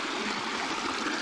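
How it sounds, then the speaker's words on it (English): A small waterfall and stream in Ashes Hollow, Shropshire, rushes and splashes close by in a constant, loud wash of water, with no voices. "Now I'm going to cross this little waterfall that's just below me"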